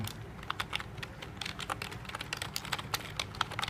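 Typing on a rubber membrane keyboard: soft, muted keystrokes tapped close by in a quick, irregular patter over a low background hum, with no voices.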